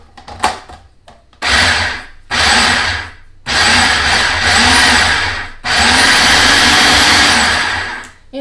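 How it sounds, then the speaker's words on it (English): A food processor pulses pineapple and jalapeños in repeated loud motor bursts, each lasting one to two seconds with short pauses between, close by. "I'm going to just turn my food processor on pulse"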